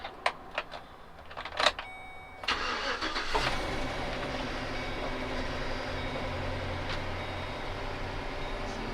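A van's engine cranks and catches after a few clicks and beeps, then settles into a steady, close idle that continues to the end.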